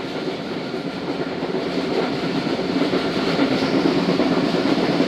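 Tezgam passenger train running on rails at night, heard from inside the coach as a loud, continuous rumble with rhythmic wheel clatter that builds slightly.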